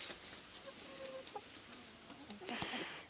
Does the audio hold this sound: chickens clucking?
yes